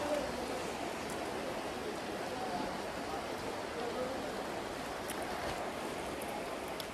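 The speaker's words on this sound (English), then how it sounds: "And rain is falling." Rain falls steadily in Lagos as a soft, even hiss throughout, with occasional faint drips and distant background noise.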